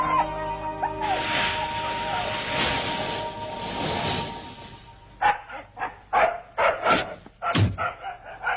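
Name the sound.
dog barking and whimpering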